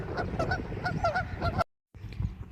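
Geese honk repeatedly in a noisy overlapping chorus, then fall briefly silent before a few lower calls resume.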